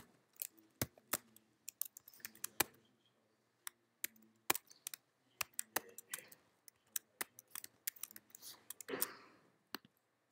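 Notes are typed on a computer keyboard during a music lecture, a string of crisp, close key clicks in uneven bursts and pauses, with a brief rustle near the end.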